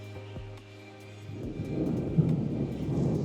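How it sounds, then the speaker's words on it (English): Thunder rumbles during a storm at the Old Key West Resort in Orlando, Florida: a sharp crack, then a low rolling roar that builds and sustains with a rain-like hiss, loud and fairly close, no voices. "Got a little bit of lightning and thunder coming"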